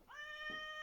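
A cat gives one short, clear meow that rises in pitch and then holds. It is close but quiet, and nothing else can be heard.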